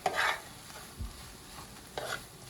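Cooked rice being stirred into a pot of meatless Trinidadian callaloo, giving a few soft scraping stir strokes and light sizzling over a low background hiss.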